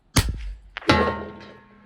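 A sharp metallic clang with a ringing tail as a bullet from a Tikka T1X rifle hits a steel gong at 200 yards, followed by a second bright strike that hums and resonates as it slowly fades.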